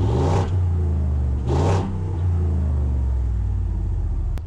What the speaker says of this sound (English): So let's go ahead and get an exhaust note.